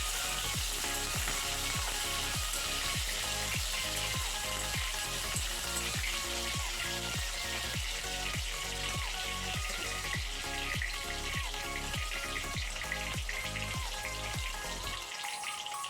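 Eggplant frying in hot oil in a wok, a dense continuous sizzle with a regular rhythm of stirring strokes, close and steady throughout before cutting off abruptly.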